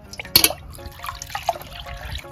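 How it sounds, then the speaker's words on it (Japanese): Water sloshes and trickles as white powdered insecticide is stirred and dissolved in a small amount of water for treating succulent plants, with close splashes, drips and light clinking, no talk. "水に溶かしていきます"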